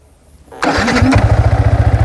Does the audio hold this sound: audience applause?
no